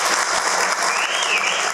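Loud, steady applause from an audience at an AIADMK political rally in Tamil Nadu, a dense wash of clapping hands that runs unbroken through the whole short stretch with no voices standing out.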